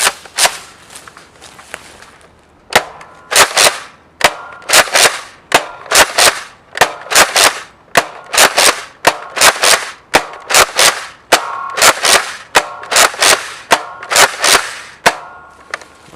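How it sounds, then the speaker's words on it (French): A Nerf Rival Hades toy blaster fires foam balls outdoors in falling snow, about two dozen sharp, loud cracking shots in quick irregular bursts with brief pauses between. "on se retrouve pour le test de tir du Nerf Rival Hades"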